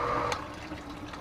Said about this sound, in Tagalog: nakita nyo ay umapaw na po ang ating stakan ng tubig